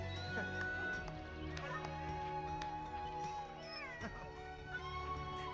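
A cat meows in the Monster Hunter Rise video game, set against dense game music and ambient sound, with the meows short and mixed into the busy soundtrack.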